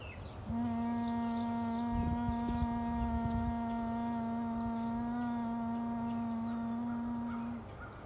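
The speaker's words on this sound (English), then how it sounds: "So Brahmari is B breath, and you'll be making a humming sound like this." A single long, steady, voiced hum is held on the exhale of Brahmari bee breath in a yoga practice. It is even and drone-like with faint background noise and no talking.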